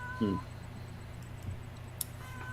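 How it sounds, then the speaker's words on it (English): A cat gives a short meow early on, fairly close, followed by quiet room background with a faint second meow near the end. "I hear a kitty"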